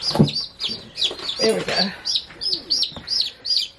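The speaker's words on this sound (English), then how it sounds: "All of their chirping and everything, it really kind of entices the other chicks" Young chicks peep in a quick repeating series of high chirps near an incubator as newly hatched birds gather, with someone speaking briefly over them.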